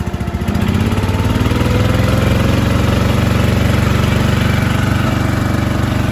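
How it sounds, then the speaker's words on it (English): A small engine fires up on choke and settles into a steady, loud idle close by, running continuously for the whole stretch without a break or any talk. "We're gonna start it up. Push the choke in. Bring the idle up some."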